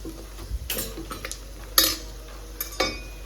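Masala sautéing with mutton masala, coriander, turmeric and chilli powder in a pot, a few scattered spoon scrapes and clinks against the pan over a faint low sizzle.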